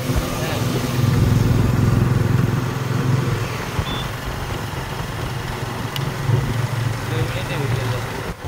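A motorcycle engine in the style of a Suzuki GSX-R runs nearby with a low, steady hum that swells and eases slightly, and light background noise around it.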